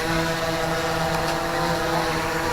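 Propellers of a DJI Inspire drone descending to land give a steady, loud, even whirring drone with a constant hum that holds throughout without a break.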